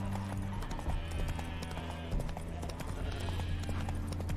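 Roach, the horse in The Witcher 3, clip-clops along with a steady run of close, crisp hoofbeats, and faint game ambience sits underneath.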